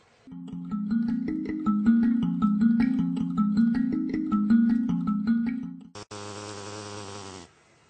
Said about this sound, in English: This is a march fly.